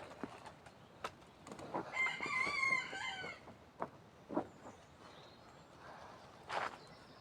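A rooster crows once, fairly close, followed by scattered soft clucks and small knocks in a quiet outdoor setting.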